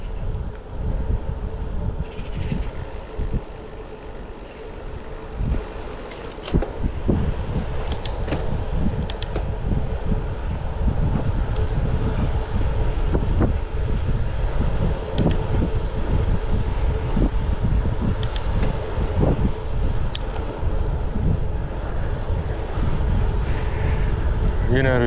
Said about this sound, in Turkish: Yine rüzgar, yine rüzgar, yine rüzgar. Rüzgara karşı lan.